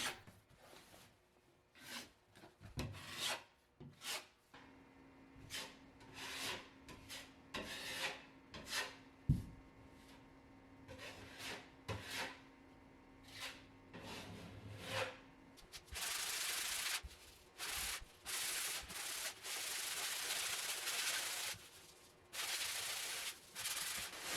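Spackle-filled holes in closet trim are sanded down by hand in repeated short, scratchy rubbing strokes, close and fairly quiet, with a longer run of continuous, brisker sanding toward the end.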